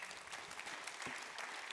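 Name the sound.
audience applause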